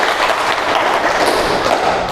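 Classroom full of students clapping together, a dense burst of hand claps that stays loud and steady for a couple of seconds.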